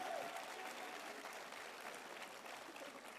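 Faint, distant clapping from a gala show audience for a brass band, a soft continuous patter held at a steady level throughout.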